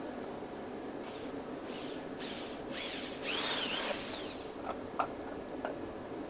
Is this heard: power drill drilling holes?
yes